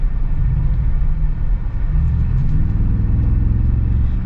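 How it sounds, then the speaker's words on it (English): A deep, steady engine rumble from a large vehicle, loud and continuous with a low idle throb that swells slightly midway. "Sounds fantastic. It's got this nice deep rumble."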